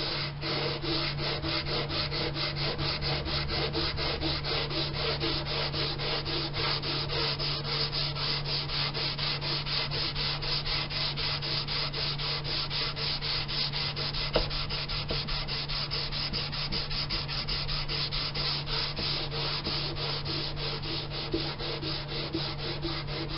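The wooden neck of a Gretsch hollow body guitar is sanded with 180 grit sandpaper in fast, even strokes, a steady close rasping that continues for over twenty seconds without speech.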